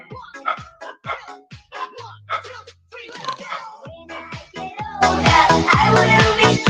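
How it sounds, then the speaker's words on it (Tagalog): Several dogs bark and yip in short irregular bursts at night, mixed with talking and some whimpering, before loud singing with music takes over near the end. "Kalakasan ko kasi merong kumakahol yung mga aso."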